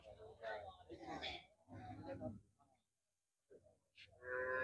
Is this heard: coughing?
no